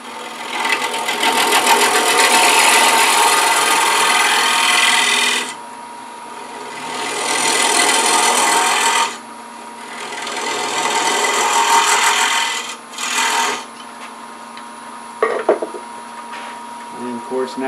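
Hand tool gouging out the inside of a pine box before its threads are cut, heard as long rasping, scraping bursts of several seconds each with short pauses between, close and fairly loud, with a few light knocks near the end.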